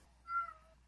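A single cat's meow, short and rising then falling, fairly faint against a quiet background with a low steady hum.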